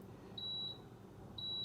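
A Power XL countertop oven beeping as it is switched to bake: two clear high electronic tones, the first longer, the second following about a second later, fairly quiet over a low room hum.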